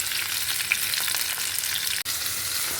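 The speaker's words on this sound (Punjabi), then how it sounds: "ਭਿੰਡੀਆਂ ਨੂੰ ਆਪਾਂ ਫਰਾਈ ਹੋਣ ਵਾਸਤੇ ਪਾਤਾ ਫਰਾਈ ਪੈਨ ਦੇ ਵਿੱਚ" Okra (bhindi) fried with spices in a frying pan gives a dense, steady close-up sizzle that holds evenly throughout, with one brief dropout.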